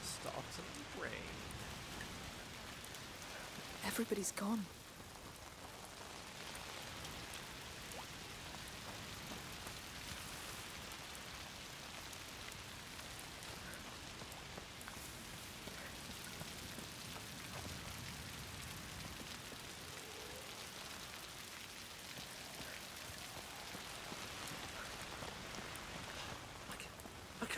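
Steady rain falling in A Plague Tale: Requiem, a continuous even hiss throughout with a brief louder burst early on, while voices speak faintly at times.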